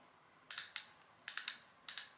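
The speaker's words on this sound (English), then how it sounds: "Oh yeah, and these like click." A Sephora lipstick tube snaps shut in a series of sharp, close plastic clicks, several of them spaced unevenly over about two seconds, with no voices.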